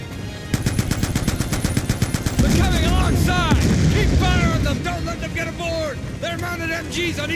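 Rapid machine gun fire rattles from a barge in the Call of Duty: Black Ops 2 campaign, loud and continuous, joined by heavier bursts and whining engine or ricochet sounds mid-battle.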